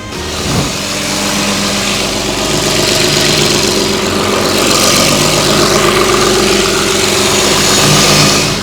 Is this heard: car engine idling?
yes